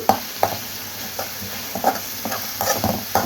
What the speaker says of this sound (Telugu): ఇది ఫ్రై అయితే అప్పుడు ఫ్రై అయినట్టు ఇట్లా ఆయిల్ వదులుతుంది కదండి